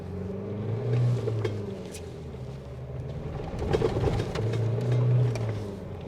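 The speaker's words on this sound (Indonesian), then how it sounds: "sekarang kita akan langsung saja tes bagaimana rasa mesinnya" Isuzu D-Max 2022 pickup on a test drive, its engine a low, steady rumble from inside the cab that swells twice as it accelerates.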